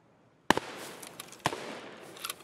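Two sharp gunshot cracks in Escape from Tarkov, one sharp crack about a second after the other, with fainter pops trailing near the end. The shots are moderately loud and sound somewhat distant, with no voices.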